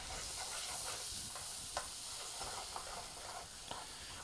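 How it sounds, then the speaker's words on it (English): White scallions are stirred in a hot pan, giving a soft continuous sizzle and hiss broken by a few faint scraping clicks from the utensil. "we're just going to stir it"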